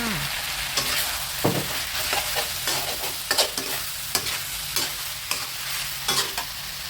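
Spicy Thai pork with eggplant stir-fried in a pan, a constant close sizzle broken by repeated clacking scrapes of a spatula at an uneven rhythm.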